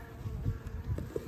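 Honey bees buzz at a beehive in a soft, low, continuous drone with small fluctuations, heard close and alone over a brief moment.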